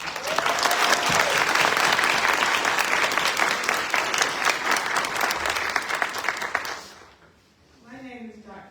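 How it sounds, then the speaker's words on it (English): A crowd at an MLK Jr. event gives a full round of applause, dense and steady for about seven seconds before fading out, with a speaker's voice starting afterward. "Let's give them a round of applause"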